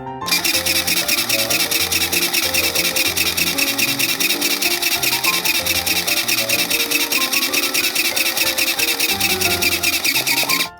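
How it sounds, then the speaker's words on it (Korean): A toy sewing machine from a children's character sewing studio stitches along both sides of folded fabric for a keyring handbag, running as a steady, fast, continuous mechanical whir with rapid rhythmic clatter throughout, close and fairly loud, with no talking. "이렇게 했으면 원단을 반으로 접어서 양 옆을 바느질 할게요."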